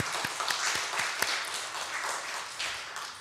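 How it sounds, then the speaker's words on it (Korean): A church congregation claps together in a sustained round of applause, the dense patter starting with a few distinct individual claps and carrying on steadily, moderately loud in a large room, without speech. "우리 하나님께 영광의 박수 올려드리겠습니다."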